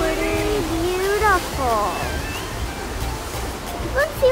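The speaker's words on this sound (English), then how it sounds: "There are some very big waves over there" Ocean waves surge at Devils Churn in Yachats, Oregon, a steady roaring wash beneath voices talking nearby.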